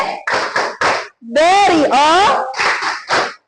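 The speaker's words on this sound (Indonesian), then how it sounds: "kita beri tepuk wow dulu" A classroom of students performs the rhythmic "tepuk wow" clap, short bursts of claps in a set pattern alternating with a teacher's voice calling out, with a sung or chanted voiced segment in the middle.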